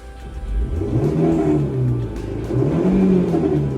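A manual car lurches as the clutch is released in reverse. The engine note rises and falls in uneven surges, close and fairly loud, with no talk.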